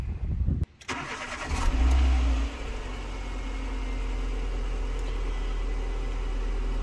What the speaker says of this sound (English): let's just start the car up and let it warm up